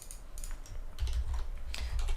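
Quick bursts of computer keyboard typing in a Linux terminal, with crisp clattering keystrokes close up and a few brief pauses between runs.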